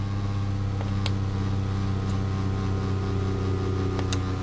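A Tr3nity Dynamo magnet generator hums steadily as it spins down from speed, a constant close mechanical whine with faint clicks and no voices.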